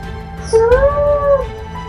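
A cartoon cat gives one drawn-out, rising-and-falling meow, loud and close, standing alone over a faint background.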